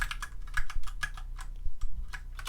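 Quick, steady typing on a computer keyboard while writing code, a close run of sharp key clicks with slight variation in loudness and no voices.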